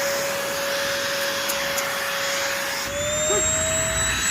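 A small household vacuum cleaner runs steadily with a loud whining motor tone, its pitch shifting slightly partway through as the nozzle is moved, with no one talking.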